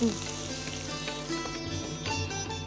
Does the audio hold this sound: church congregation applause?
no